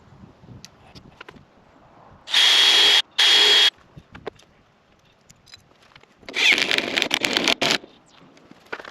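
A power drill drives small lag bolts into a gate pole outdoors in two short whirring bursts, each about a second and a half long, separated by quieter handling noises.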